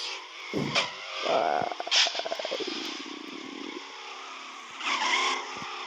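A 1987 NASCAR stock car, number 68, races in a video game, its engine revving and shifting in rising and falling bursts with tire skids, loud and close, with no talking.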